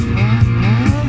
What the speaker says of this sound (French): Ça glisse, ça drift.